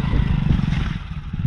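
A motorcycle on a rough Manali–Leh mountain road being hauled out of a pothole, its engine idling and chugging low and close with scraping and clattering alongside.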